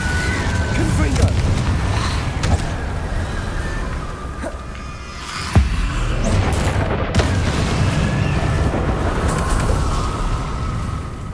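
Confringo explosive spell blasts in the video game Hogwarts Legacy, booming impacts over dense, continuous battle noise and music, with one sharp blast standing out midway.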